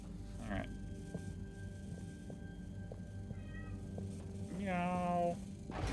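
A cat meowing in the video game Harold Halibut, two short mews over a low ambient hum, with a person talking faintly.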